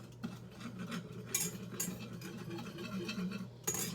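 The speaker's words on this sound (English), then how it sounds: "Just kind of whisk it." A whisk scrapes and taps against a pan as flour is stirred into a blonde roux, with soft rhythmic clicks and gentle patter heard close up at low volume.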